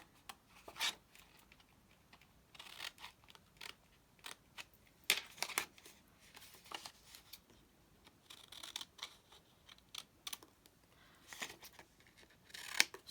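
Scissors snip tabs off papercraft paper, making a run of quiet, close crisp cuts and rustles in an irregular rhythm with no talking.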